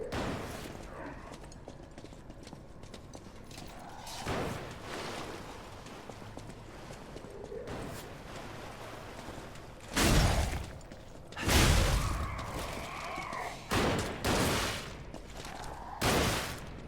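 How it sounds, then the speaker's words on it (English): Enemy gunfire in Lies of P comes as a few loud, separate shots and bursts rising over a low rumble of game ambience, spaced out rather than continuous. "I picked the wrong guys to shoot at."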